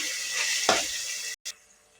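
Tomato added to a pan of frying onion for avarekalu uppittu sizzles loudly and steadily, with a burst of hiss as the pieces hit the hot oil, then a brief silence before the frying resumes.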